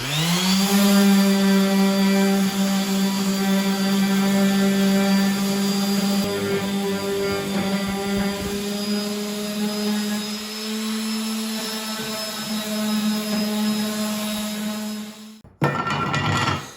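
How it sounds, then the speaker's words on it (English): A power sander works a wooden mid-century modern dresser, giving a close, loud, steady motor whine that drones on with slight shifts in pitch as it is pressed against the wood, then cuts off near the end. "So let me get the sander out. Now let's try sanding this."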